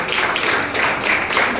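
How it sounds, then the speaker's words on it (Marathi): Dense, even applause from an audience at a Deccan Education Society retirement program in Satara, loud and close, continuous throughout without a break. "जोरात टाळ्या होऊ देत"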